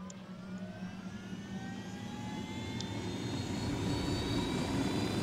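A helicopter in the video game Ghost Recon gives off a steady, swelling engine and rotor drone that grows gradually louder over several seconds, a continuous mechanical roar with no speech.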